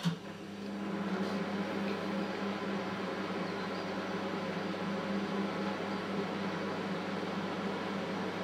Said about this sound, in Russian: И опять же поставить в микроволновку.